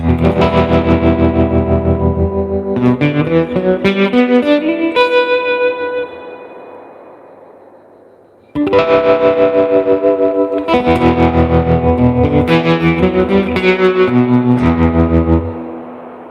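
Heavily effected guitar swells into a dense, distorted, warbling wash that fades into silence, then surges back in loud and chaotic with echoing, rolling noise.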